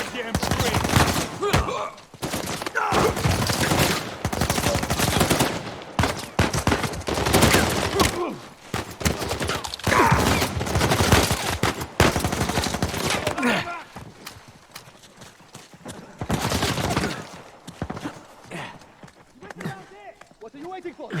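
Rapid bursts of gunfire crackle through a firefight in the video game Uncharted 4, with loud, dense volleys over several seconds that thin out toward the end, while voices shout over the shots.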